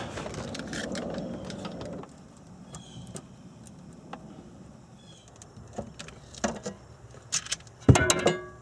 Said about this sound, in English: I can place a screwdriver and keep cutting away.